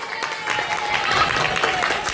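An audience at a stage show gives a special round of applause: dense, steady clapping from a crowd that fills the whole stretch, close and fairly loud, with a voice faintly mixed in.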